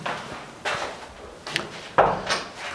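A pantry drawer in a bungalow kitchen slides and knocks shut, giving several short wooden thumps and bumps at close range in a quiet room.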